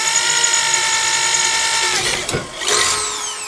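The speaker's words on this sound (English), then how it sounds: "when these drill bites are flying, drilling is going nicely" A close, loud Makita electric drill driver whines at high speed while drilling into an alloy plate, with a brief dip and catch in pitch before spinning back up.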